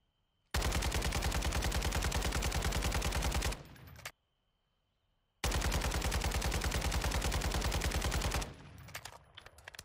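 Edge 47 rifle in Warzone 2.0, fired at a 10-meter test range with an underbarrel attachment: two long, loud bursts of rapid automatic gunfire separated by a pause of silence, each trailing off into a short echo.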